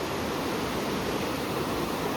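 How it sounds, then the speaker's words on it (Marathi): A small waterfall of floodwater pours steadily into a hole in the July flood at Apta Koliwada, a constant full rushing wash with no pauses. "इथं एवढूसा धबधबा माझ्यासाठी बनलाय"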